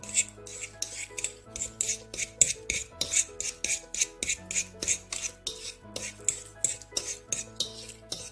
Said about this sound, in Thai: เราจะทำการแมช เนื้ออะโวคาโดให้เป็นชิ้นเล็กๆนะคะ